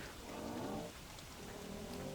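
Rain falling in the game Don't Starve, a soft steady patter with faint tonal music underneath, quiet and brief.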